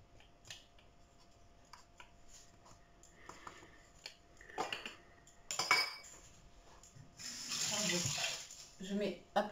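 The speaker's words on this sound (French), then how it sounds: "Je mets à peu près un verre d'eau." Water is poured from a small glass while a fish tagine is prepared in a kitchen, a short splashing gush near the end after scattered clinks and handling noises, with soft talk in the background.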